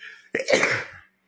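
A single sharp sneeze bursts out after a faint breathy intake, loud and close, then fades quickly into silence.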